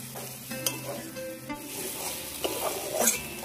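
Paneer stir-fried with spices and poppy seed paste in a pan, a soft steady sizzle with scraping stir strokes and occasional clinks, close and fairly quiet.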